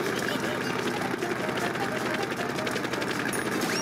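Engine in the Bad Piggies video game whirs with a fast, rattling buzz that stays loud and constant throughout, with a voice talking over it.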